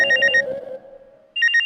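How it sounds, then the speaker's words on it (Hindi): A bright electronic phone ringtone plays in a short repeating burst, pauses briefly, then starts again, loud and close. "ये तो मेरे फोन की घंटी।"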